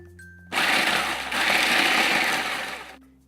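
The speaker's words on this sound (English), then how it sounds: "So I just added like 4 or 5 little mini Oreos right into the food processor" A food processor whirs loudly for about two and a half seconds, grinding four or five mini Oreos into fine sand-like crumbs, starting abruptly and cutting off at the end.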